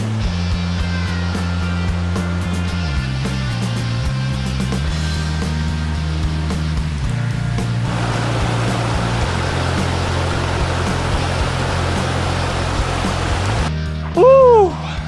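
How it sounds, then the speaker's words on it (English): A small unnamed waterfall just off a mountain trail in Bullion Canyon pours in a steady, broad rush of falling water, close and continuous, swelling louder partway through before a brief burst of breath or voice near the end. "Here's a nice waterfall."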